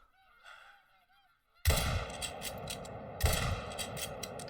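A goose honks in the hunting game TheHunter: Call of the Wild, a few faint calls, then a loud sharp gunshot with a rolling echo, followed by a second shot and its reverberation.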